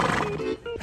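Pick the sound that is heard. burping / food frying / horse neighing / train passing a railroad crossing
horse neighing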